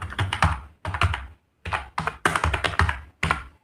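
Bursts of typing on a computer keyboard while a form field is filled in, several quick runs of close, crisp key taps separated by short pauses.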